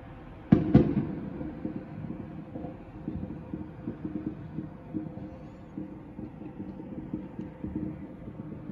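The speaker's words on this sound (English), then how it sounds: "More fireworks." Fourth of July fireworks going off in the distance, heard from a bedroom: two sharp near bangs at the start, then a long run of muffled, rumbling booms and crackles at a steady irregular pace.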